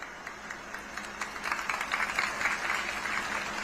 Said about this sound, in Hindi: आपने ताली बजाई, मतलब आप गहराई समझ गए बात की।